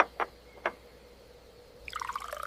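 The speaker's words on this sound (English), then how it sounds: "I pour the tea." Tea pours from a kettle into a cup, a brief trickling splash near the end after a few soft clinks and taps, quiet and close in a kitchen.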